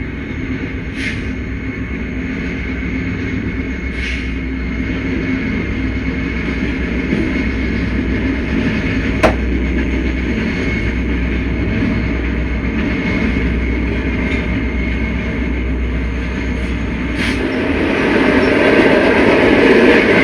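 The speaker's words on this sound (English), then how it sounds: "the first train we see sharing trackage rights is a westbound Norfolk Southern" A westbound Norfolk Southern freight train passing on shared Santa Fe trackage, a loud continuous rumble of rolling cars with occasional metallic clicks and squeaks, swelling near the end, no voices.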